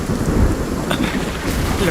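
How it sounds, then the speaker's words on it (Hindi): Torrential rain during a thunderstorm beside an old temple, a loud, dense roar of downpour with deep rumbling thunder underneath, steady throughout without any speech. "बाप रे, क्या बारिश है!"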